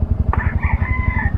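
A rooster crows once, loud and close, at a rural province house in Anda, Pangasinan, over a steady low engine-like rumble.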